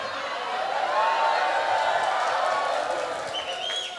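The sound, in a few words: audience applause at a religious lecture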